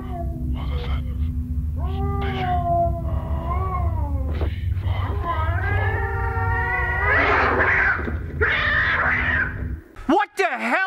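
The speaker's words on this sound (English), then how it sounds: "we hear cats screaming in the background" Cats yowl and wail in long, rising and falling screeches, one after another, over a low rumbling background, ending with a sharp warbling cry.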